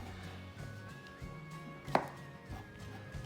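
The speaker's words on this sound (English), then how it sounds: "just continue chopping all your mushrooms until they're all chopped up" A knife chopping mushrooms on a cutting board in a home kitchen, with quiet irregular cuts and one sharper knock, over a steady background hum.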